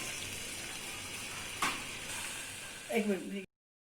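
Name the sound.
chicken frying in oil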